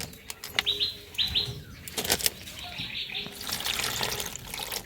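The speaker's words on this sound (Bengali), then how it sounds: "এই মাশরুমগুলো খুব ভালোভাবে পরিষ্কার জলে ধুয়ে নেব" Water splashes and trickles as mushrooms grown in Odisha are rinsed clean by hand, with intermittent bird chirps in the background and a burst of running tap water toward the end.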